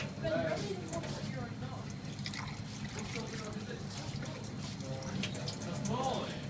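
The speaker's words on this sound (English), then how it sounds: "With our trickling water again, just to make sure it's all nice and clean" A kitchen tap trickles steadily as a gutted round fish is rinsed clean inside, a soft continuous water sound running beneath close talking.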